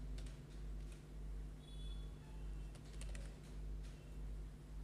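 Scattered keystrokes on a computer keyboard while entering text into an Excel spreadsheet: a few light, sparse clicks over a steady low electrical hum and faint room noise.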